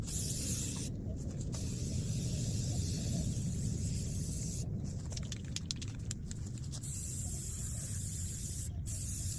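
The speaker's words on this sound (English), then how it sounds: "And now we're just going to spray paint it." A spray paint can coats a hawk decoy in a continuous, close, loud hiss, broken by a few short pauses and a brief stretch of rapid stuttering bursts.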